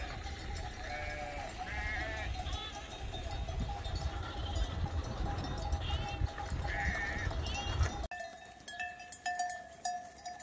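A flock of sheep, ewes with lambs, bleats repeatedly and fairly close on a countryside walk, with overlapping calls against steady outdoor noise, and a faint bell-like clink.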